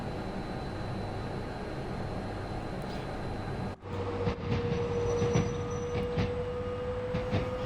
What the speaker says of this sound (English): I do love the Pendolino sounds, they are good